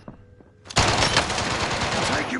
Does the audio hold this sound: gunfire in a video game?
yes